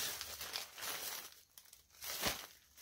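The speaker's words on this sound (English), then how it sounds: "Sorry about all this crinkling" Plastic packaging around a bundle of fabric crinkles and rustles close by, in several bursts of crisp crackling over a few seconds.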